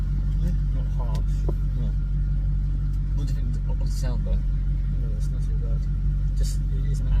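Maserati GranTurismo S engine and exhaust rumbling steadily from inside the car at a constant loud level, a smooth rather than raspy tone, with people talking over it throughout.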